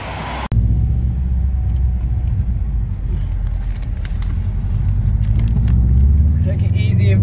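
A Subaru Impreza GC8 running 1.6 bar of boost drives along with a loud, steady low engine rumble after a sharp click at the start. The tone swells slightly toward the end.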